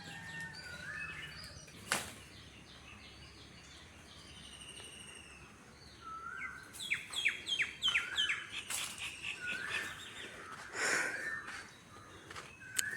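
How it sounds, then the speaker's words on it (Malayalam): Morning birdsong around a home garden in Kerala: scattered chirps and tweets, faint and distant at first, then denser bursts of calls near the end, with no talk. "എനിക്ക് രാവിലെ ഈ കിളികളുടെ ശബ്ദം കേൾക്കാൻ ഭയങ്കര ഇഷ്ടമാണ്."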